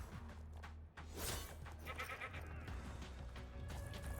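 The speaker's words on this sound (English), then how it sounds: "It's one of the goat guys." A goat creature in a video game bleats in short repeated calls over steady game background sound, fairly faint.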